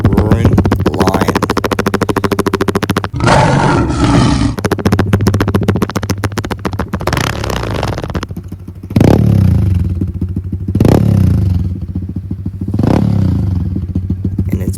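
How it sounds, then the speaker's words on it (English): A pit bike engine with its exhaust baffle removed runs loud and close with a raspy, continuous roar, rising in several sharp revving bursts and falling back between them, with some clattering and scraping mixed in. "Now if we just take the baffle out, throw it on the ground, and now she sounds like a roaring lion."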